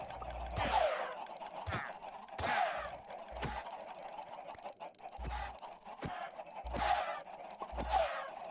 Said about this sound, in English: Good thing chickens can't fight back.